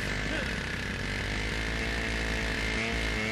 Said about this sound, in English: Crazy chainsaw.